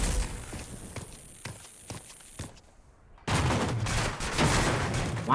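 Gunfire in Rage 2 aimed at a box: a run of sharp, separate shots cracks out over the first seconds, then a louder, busier burst of firing and clatter follows.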